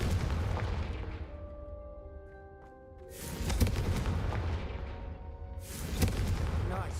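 Confringo fire spell cast at candelabras in Hogwarts Legacy, heard as two loud, broad fiery blasts with a softer tonal stretch between them and a fading tail after each.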